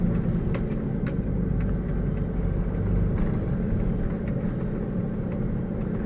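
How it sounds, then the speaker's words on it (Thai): A car driven slowly during a Thai driving lesson, with steady low engine rumble and road noise under gentle throttle, constant and close, no talk. "เร่งเพิ่มทีละนิดทีละนิด"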